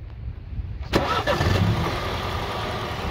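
A 2016 MINI Cooper S with a twin-turbo BMW engine, in good condition, cranks and catches at about one second, then settles into a steady, fairly loud idle that carries on alone to the end.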